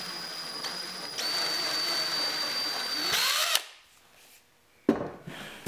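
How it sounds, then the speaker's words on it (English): A power drill bores a small, shallow hole, about 1/8 inch deep, into the center of a wooden seat board. The steady, close, high whine winds down after about three and a half seconds and is followed by a faint knock. "Now I'm drilling a small hole in the center,"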